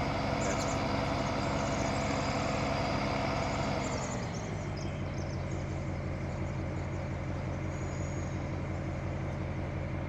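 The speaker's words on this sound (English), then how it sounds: "It's early in the morning with this service truck coming through town." Service truck driving through town early in the morning in Farming Simulator 19: a steady engine drone that drops to a lower, quieter idle-like hum partway through, continuous with no voices.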